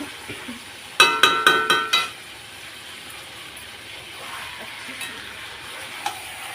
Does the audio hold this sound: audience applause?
no